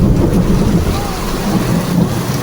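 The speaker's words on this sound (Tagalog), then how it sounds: "Ang lakas pa ng mga kulog." Heavy evening rain pours steadily with deep rumbling thunder rolling underneath, loud and continuous throughout.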